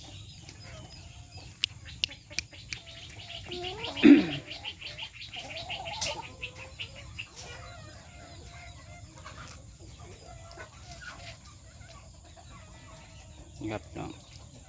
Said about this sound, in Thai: ไก่ในสุ่มเฮา